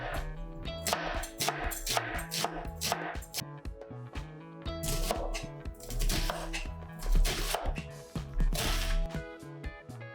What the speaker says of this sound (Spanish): empezamos picando una cebolla